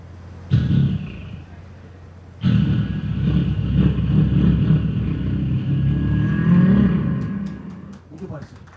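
A voice imitating a street motorcycle engine before a festival crowd, a short burst then a long rising and falling revving drone, loud and close, ending with a sputter.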